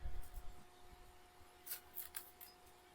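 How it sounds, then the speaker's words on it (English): Several crisp knife cuts through an onion, made with a Milk Street nakiri blade, land as sharp short strokes near the end after a quieter stretch, alone with no talk. "While that's getting started, I am going to cut up the onion."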